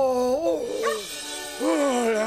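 A cartoon dog in a French-dubbed firefighter animation gives drawn-out whimpering, howl-like yelps with bending pitch, repeated twice in quick succession, loud and close.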